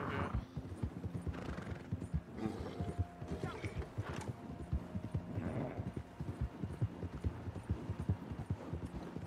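Hoofbeats of a horse galloping in Red Dead Redemption 2 Online, a steady rapid clip-clop with occasional whinnies, under people chatting.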